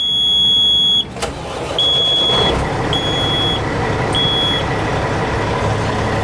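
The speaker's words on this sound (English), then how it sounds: "We'll start it up here." A 2006 Kenworth W900L with 715,000 miles gives a loud cab hum, then a sharp starter crank around one second and a rough catch into a low diesel rumble, with repeated high warning beeps sounding above it.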